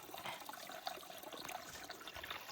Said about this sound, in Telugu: ఇక్కడ నుంచి నీళ్లు స్టార్ట్ అవుతున్నాయి. భూమిలో నుంచి వస్తున్నాయి